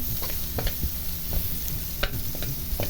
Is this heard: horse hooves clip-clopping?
no